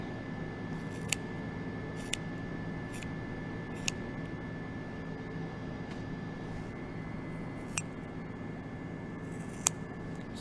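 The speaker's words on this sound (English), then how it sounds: "if you listen carefully, you can hear me cutting the layers of the cornea" Small scissors snip through the layered cornea of an eye during a dissection, a handful of faint, sparse, sharp clicks over a steady background hum with a constant tone, no talking.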